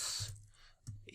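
Keys clack on a computer keyboard in a quiet room: a quick burst of clicks at the start, a pause, then another short cluster of taps.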